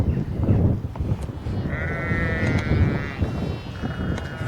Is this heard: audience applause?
no